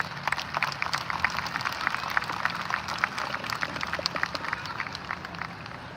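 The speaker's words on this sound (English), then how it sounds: "I request everyone to kindly give huge round of applause for the students as well as their parents." Audience clapping at a school annual day celebration, a steady dense patter of many hands that holds evenly throughout at moderate level with no voices over it.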